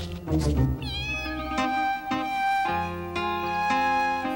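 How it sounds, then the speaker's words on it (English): A cat meows several times in a row, drawn-out and loud, close by, with each cry rising and falling and only brief pauses between them. "And I must leave Pablito the cat here."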